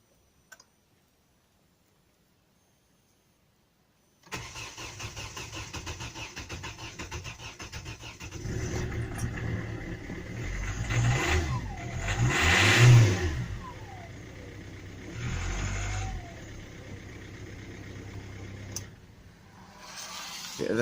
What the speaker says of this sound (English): Right, gonna give it a good start.